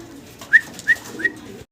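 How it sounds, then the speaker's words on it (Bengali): A single male pigeon coos three times in quick succession, close and clear against a quiet background. "খুব ডাকাডাকিতে ব্যস্ত আছে এক পিস সিঙ্গেল কবুতর"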